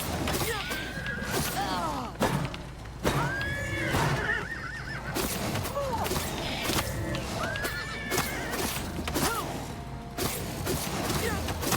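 A horse in the video game Oblivion Remastered neighs repeatedly in rising and falling whinnies, mixed with clip-clop hooves and occasional thuds, with someone talking intermittently.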